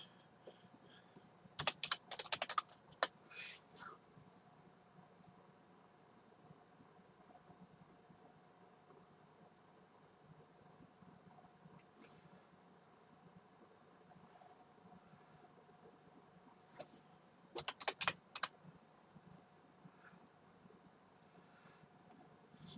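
Quiet clicking of computer keyboard typing, with two brisk bursts of keystrokes near the start and again later, separated by a long stretch of faint background hiss.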